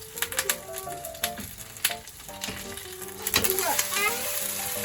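Okonomiyaki sizzling in a hot pan as it is scooped up and flipped over, with steady frying hiss, scraping and tapping of a spatula, and a voice talking faintly in the background.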